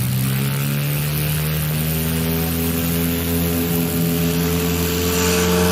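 A STOL competition aircraft at full power during a short takeoff, a loud continuous propeller and engine roar with steady droning harmonics, close and filling the whole stretch with no voices.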